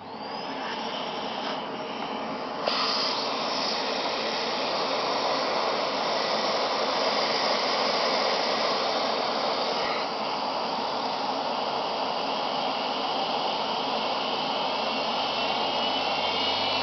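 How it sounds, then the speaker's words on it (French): A vacuum cleaner turbine runs in suction mode, giving a loud, steady, full-bodied whoosh that holds evenly throughout after a brief rise at the start. "je vais mettre l'aspirateur comme ça en aspiration"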